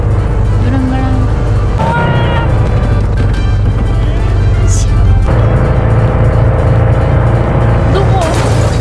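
A car engine drones steadily and loudly through a racing video game, with game music and effects mixed in and someone talking over it.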